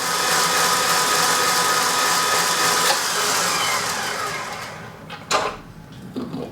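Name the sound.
whisking Swiss meringue buttercream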